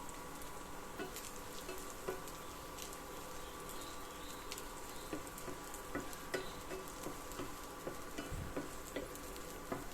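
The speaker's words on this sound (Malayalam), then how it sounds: "ഈ സമയത്ത് നമുക്ക് വെണ്ടയ്ക്കൊന്ന് ഒന്ന് ഫ്രൈ ചെയ്തെടുക്കണം ഇനിയിപ്പോൾ ഒരു പാനിലേക്ക് ഞാൻ വെളിച്ചെണ്ണയാണ് ഒഴിച്ചു കൊടുത്തിരിക്കുന്നത്" Okra fries in coconut oil in a pan over low heat, a faint, even sizzle with scattered tiny crackles and ticks that continues steadily with no voices.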